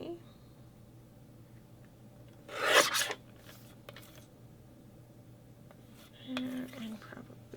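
A photo print is trimmed to 3.5 by 5.5 inches with one brief rasping cut, then a second quieter scrape a few seconds later, in a quiet room.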